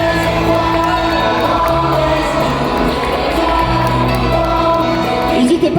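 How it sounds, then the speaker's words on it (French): Applause and cheering from the audience at the Geek Days Lille Winter 2025 cosplay contest, a continuous dense roar of clapping and whoops filling the hall with no one speaking over it. "Et on peut les applaudir bien fort, nos participants de ce concours cosplay"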